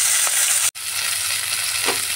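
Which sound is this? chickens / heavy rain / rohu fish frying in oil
rohu fish frying in oil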